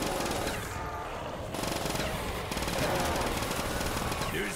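Rapid automatic gunfire in Call of Duty: World at War's Der Riese zombies map, dense bursts rattling loudly and near, with short pauses between strings of shots.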